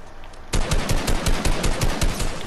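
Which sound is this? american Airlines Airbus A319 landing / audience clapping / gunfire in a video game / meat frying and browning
gunfire in a video game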